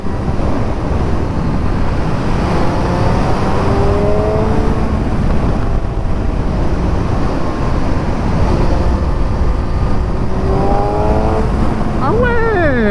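Kawasaki Z1000 motorcycle engine revving and accelerating through rising pitch sweeps, loud and close over steady wind rush from riding, with a sharper rev burst near the end.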